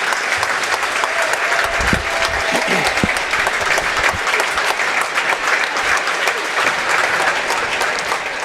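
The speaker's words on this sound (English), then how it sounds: "a well-deserved round of applause for that group" Loud, sustained applause from a large crowd at a high school boys basketball game, steady clapping throughout with a faint voice briefly underneath.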